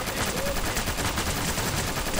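Rapid bursts of video game gunfire crackle without pause, dense and continuous like automatic weapons firing close by.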